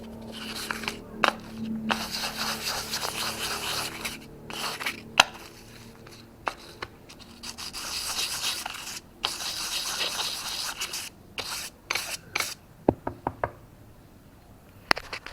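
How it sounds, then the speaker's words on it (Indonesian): Brake caliper parts and pads from an RCB S Series caliper being sanded by hand, steady close rasping strokes broken by knocks and taps of the parts, no talking. "Kita amplas lagi ya."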